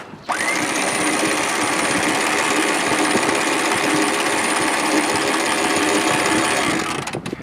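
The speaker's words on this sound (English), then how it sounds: "the joys of electric winches when you're single-handing" An electric winch on an Allied 36 sailboat sheets in the jib, a loud continuous motor whine with a grinding mechanical edge that starts sharply and runs steadily for about seven seconds before stopping.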